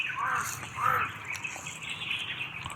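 A crow squawks a few harsh, short calls close by in the outdoor heat, with quieter bird sounds and faint background noise after them.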